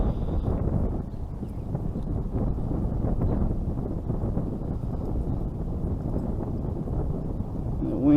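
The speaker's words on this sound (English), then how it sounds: "The wind's definitely blowing me." Wind buffets the microphone in a steady, dense rumble while fishing from a boat, continuous and close throughout.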